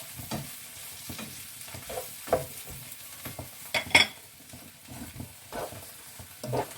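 Bitter melon (perela) fries in a pan with a constant crackling sizzle, broken by repeated scraping and clinking as a utensil stirs and turns the pieces, with one sharper metallic clack near the middle.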